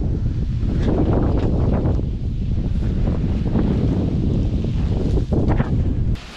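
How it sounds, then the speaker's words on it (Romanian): Strong wind buffets the microphone on a roadside trip in Romania, a loud, continuous rumbling roar with gusty flutter and no clear pauses. "dar ce bate, frate, vântul halul ăsta?"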